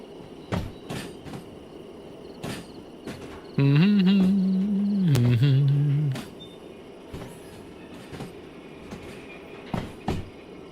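A long freight train rolling on rails in the railway simulator game Derail Valley, with scattered clicks and clacks over a low rumble and a loud sustained horn-like tone in the middle, alone without talk.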